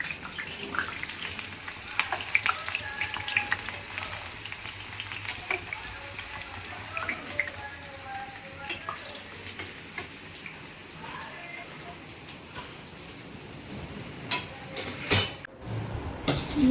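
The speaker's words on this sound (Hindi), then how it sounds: "नाश्ता रेडी और बन रही हैं पकौड़ियाँ" Pakoras made from gram flour and onion fry in a pan with a constant crackling sizzle, joined by occasional clinks and knocks of utensils against the cookware near the end.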